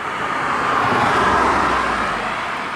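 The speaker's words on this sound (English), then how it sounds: "Another car." A car sweeps past on a road, a broad whooshing roar that swells toward the middle and eases off, loud and close with no talk over it.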